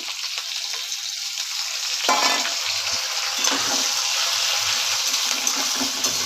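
Ginger paste hitting a pan of potatoes, loud close frying that swells into a sharper hiss partway through and then keeps up a dense crackling sizzle with faint stirring underneath.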